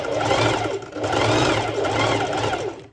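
Domestic sewing machine set to its longest stitch length, stitching fabric for a cropped top close to the edge; a steady, close mechanical whirr runs throughout, with a brief dip near the middle and a tapering stop at the end.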